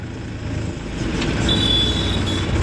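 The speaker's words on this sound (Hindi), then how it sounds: "ये देखें कितनी स्पीड से ट्रैक्टर आ रहा है," An approaching Mahindra tractor hauling a sugarcane trolley to a sugar mill, heard as a steady, close, loud low engine rumble that swells slightly as it nears, with a faint high whine partway through and no talk.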